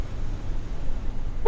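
A short car horn toot sounds at the very end, over steady outdoor rumble at the dedication of the new Stringtown Road.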